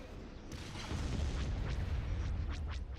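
Explosions from a bombing run in a Star Wars strategy game, a dense roaring barrage of booms and blasts that swells after the first second and keeps rumbling steadily to the end.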